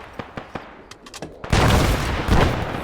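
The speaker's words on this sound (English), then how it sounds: "Mortar firing west." Mortar rounds fire in the ArmA video game: sharp, scattered reports, then a loud, sustained blast and rumble that swells again near the end.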